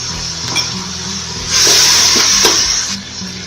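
Turmeric, chili and tomato get stirred and fried in a cooking pot for yakhni pulao, giving a steady loud sizzle with scraping strokes and a brighter hissing surge midway.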